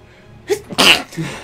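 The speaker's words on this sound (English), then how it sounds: "I am about to sneeze." A single close, loud sneeze: a short intake breath, then a sharp explosive burst and a brief exhale.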